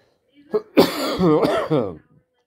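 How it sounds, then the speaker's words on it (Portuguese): A brief throat-clearing followed by a few close, harsh coughs in a short burst. "eu tô tossindo"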